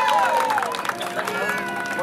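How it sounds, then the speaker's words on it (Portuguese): Applause and cheering from a crowd at a birthday celebration in Cidade Tiradentes for a mother named Anísia, clapping mixed with lively voices and babble, fairly loud and dense throughout. "Palmas para Anísia!"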